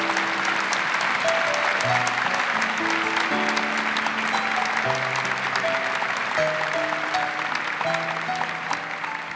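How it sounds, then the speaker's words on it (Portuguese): A Catholic congregation applauds steadily and fully, a dense continuous wash of clapping with a sustained organ or keyboard melody playing beneath it throughout. "Aplauda a igreja da misericórdia."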